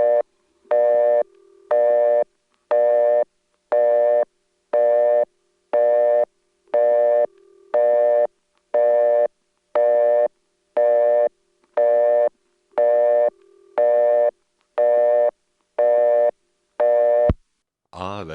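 Ringing tone on an intercept trunk of a 1977 step-by-step telephone exchange in Lexington, South Carolina, a clear, regular series of loud tone bursts with silent gaps between them, ending in a sharp click.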